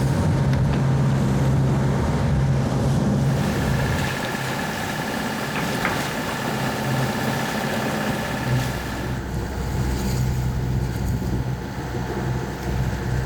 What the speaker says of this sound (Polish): Więc żagielek jest rozwinięty, ale silnik nam też pomaga,